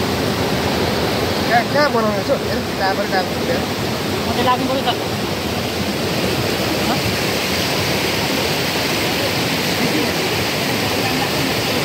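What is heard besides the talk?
Khardu river stream flowing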